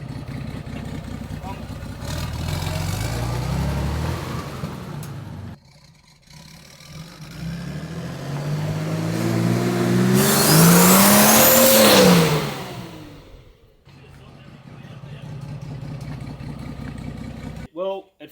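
A turbocharged carbureted petrol engine revs up and down repeatedly, climbing to a loud high-pitched peak before dropping away, with a brief quiet gap midway.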